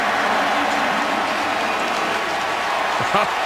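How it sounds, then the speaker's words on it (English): A large stadium crowd at an NFL football game, Jaguars at Colts, roars and applauds in a dense, continuous wash of cheering, with a commentator's voice briefly audible near the end. "Listen to the crowd give it up for Dominique"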